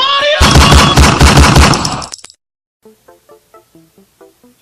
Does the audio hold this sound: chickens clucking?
no